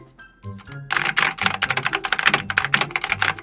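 Rapid keyboard keys are pressed in a fast, dense stream of sharp clicks after a brief musical lead-in. The tapping keeps pace with a 240 BPM rhythm game song playing underneath, loud and close.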